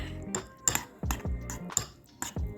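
A spoon stirs maple syrup into overnight oats, giving a run of quick metallic clinks and scrapes against the container, close and fairly soft, in an irregular rhythm with no talk.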